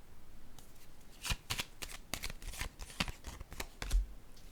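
A run of crisp, close card snaps and slaps as playing cards are handled and laid down on a table, irregular bursts over a quiet room.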